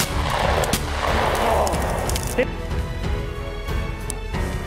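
A shotgun is fired during a pheasant hunt with a German Wirehaired Pointer: a single sharp report cuts through steady outdoor noise while voices talk nearby.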